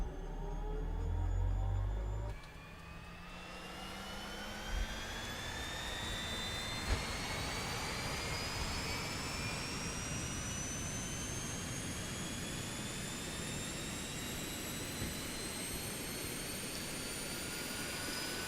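Aircraft engine in Microsoft Flight Simulator 2024 during a crop-dusting career mission: a loud, steady jet-like roar that rises in pitch as the plane speeds up, heard alone without talking.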